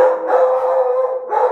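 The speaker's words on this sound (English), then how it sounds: "Sorry about the dogs." Dogs howling continuously indoors, a loud, close, sustained howl with a slight dip and renewed swell near the end, no talk over it.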